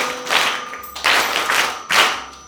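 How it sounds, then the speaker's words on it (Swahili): A group claps in bursts of applause during a church gathering where a bishop quizzes young confirmation candidates, with three loud waves of clapping swelling and fading in quick succession and no talk. "Makofi."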